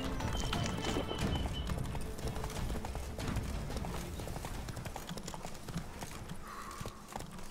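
Roach, Geralt's horse in Witcher 3, gallops hard, a rapid continuous drumming of hooves that stays loud and close throughout, with a short whinny-like tone near the end.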